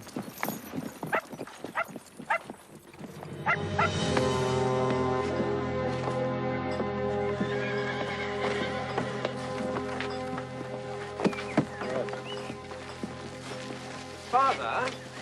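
Horse hooves clip-clopping on a rural farm selection, sharp rhythmic clops at first, then a sustained neigh-like tone over a steady rumble with more scattered hoof knocks later, with voices nearby.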